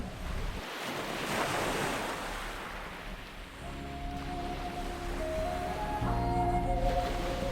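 Ocean waves rolling and washing in a steady broad roar with wind rushing across the microphone, sustained throughout, while soft melodic tones enter partway through.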